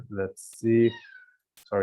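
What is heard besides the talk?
cat meowing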